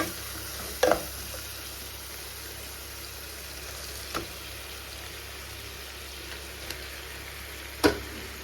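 Squid and prawns sauté in a pan with turmeric and chili masala, making a faint, steady sizzle broken by a few sharp clinks of stirring.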